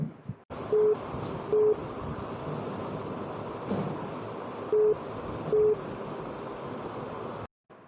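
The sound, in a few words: telephone ringing with an incoming call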